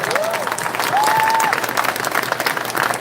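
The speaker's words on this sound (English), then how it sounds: "Round of applause for Komlanvi Dodjro." Audience applause for a panelist at a Dragons' Den event in Toronto: dense, fairly loud clapping throughout, with a couple of whistle-like tones rising over it early on.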